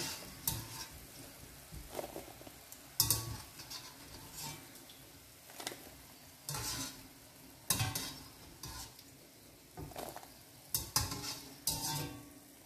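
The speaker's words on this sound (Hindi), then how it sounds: "इसी चास में हिलाऊंगी कुकर के ऊपर" Buttermilk is stirred into hot nugdy in a pressure cooker, a spoon scraping and clattering against the metal in repeated bursts with a light sizzle underneath, close and fairly quiet, with no talking.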